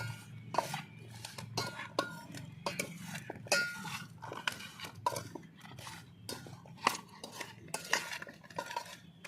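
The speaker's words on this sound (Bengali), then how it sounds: "চামচের দ্বারাই আমি ভালো করে মশলা আগে মাখিয়ে নেবো" A large spoon mixes spices for jackfruit pickle in a metal bowl, making repeated scraping strokes and sharp clinks in an irregular, steady rhythm, close up and fairly quiet, with no voices.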